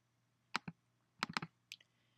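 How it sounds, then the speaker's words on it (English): Keys on a Mac computer keyboard are tapped in MS Word in short irregular bursts: two quick clicks, then a rapid cluster of four, then a final pair, close and crisp against a quiet background hum. "And let's just type in random gibberish on the keyboard"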